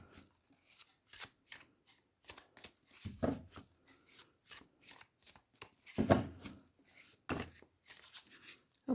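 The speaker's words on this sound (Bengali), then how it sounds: "অনেকগুলো কার্ড এসছে, আমি শাফল করেই নেব।" Tarot cards being shuffled by hand in a series of quick papery riffles and flicks, close and crisp, with brief bursts at uneven intervals and no talk.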